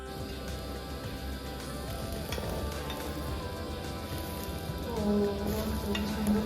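Patishapta pitha batter fries in a hot pan, a quiet, steady sizzle that swells slightly toward the end over a faint tonal background hum.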